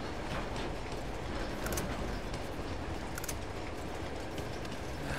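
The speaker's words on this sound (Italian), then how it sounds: "questo treno è infinito" Train rolling along in Uncharted 2: a steady, loud, dense rumble and rattle of rail cars, with a few brief metallic clanks over the noise.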